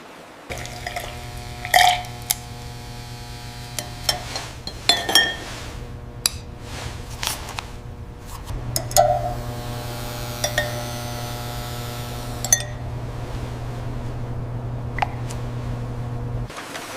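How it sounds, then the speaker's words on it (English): Glass Coca-Cola bottles clink and knock together on a 1940s bottling and packaging line, with sharp scattered chinks over a steady low machine hum. "From the moment the bottles are washed and filled, a seamless integration of man and machine guides them to the packaging line."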